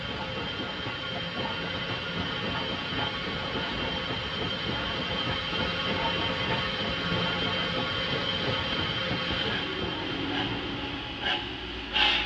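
A big steam locomotive labors up the final grade to Copper Flat, a steady, dense rumble of engine and rolling cars running close and loud throughout, with a few sharper clanks near the end and no voices.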